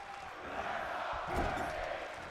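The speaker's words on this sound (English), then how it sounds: "What's with these crowds here, Rob?" A video game wrestling arena crowd in WWE 2K24 roars as a continuous, loud wash of cheering and chanting that swells slightly midway.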